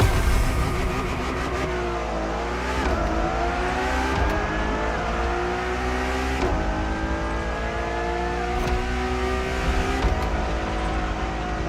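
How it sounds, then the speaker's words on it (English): A Ferrari Enzo supercar drives at speed, its engine rising through repeated upshifts with steady climbing pitch, loud and continuous throughout with no talking. "Ferrari Enzo, fourth in the supercar bloodline, was just like her sisters before her"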